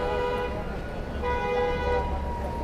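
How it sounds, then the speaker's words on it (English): Car horns honk in New York City traffic in uptown Manhattan: two sustained toots over a low traffic rumble, the second longer than the first. "people don't like honking. But in New York, it's just a way of communication"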